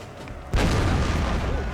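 Cannon canister fire in Napoleon Total War, a sudden heavy boom that bursts in partway through and rolls on as a dense rumble of battle noise.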